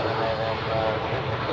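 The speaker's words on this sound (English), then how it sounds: "as we see this Edelweiss A340 taxiing to runway 28" An Edelweiss Airbus A340 taxis at Zurich Airport, its engines giving off a steady, loud, broadband roar that holds constant throughout.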